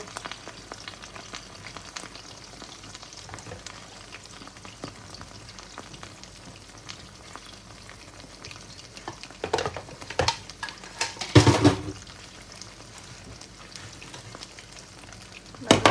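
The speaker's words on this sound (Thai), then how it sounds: "แล้วเราก็ใส่ไข่ส่วนที่เหลือลงไปเลยนะคะ" Scrambled eggs with spinach fry in a pan with a continuous soft sizzle, broken by louder scraping stirs partway through and a final clatter; no speech.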